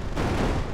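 A Lego-built modern tank cannon fires in Brick Rigs, a dense, sustained burst of booming gunfire that swells after a brief quieter start and stays loud and steady throughout.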